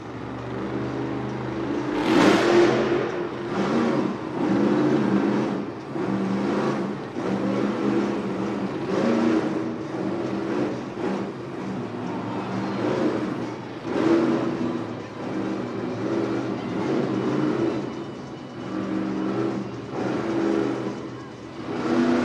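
A monster truck engine revs hard and loud through a nose wheelie during a Monster Jam freestyle run in an indoor arena, with repeated surging throttle blasts over a sustained roar.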